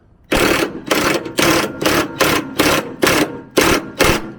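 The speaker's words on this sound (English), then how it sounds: "I've got my windy gun there, and that's a 19mm socket on the end of there" An air impact wrench with a 19mm socket fires in eight or nine loud, rattling bursts, each about half a second long, with brief pauses between them, working on a VW T5/T6 rear spare wheel carrier.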